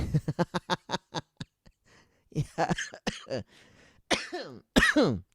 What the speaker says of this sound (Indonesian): Sorry agak batuk